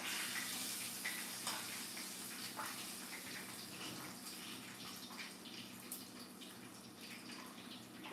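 Continuous crackling sizzle of food frying in hot oil, steady and fairly quiet, with no talking.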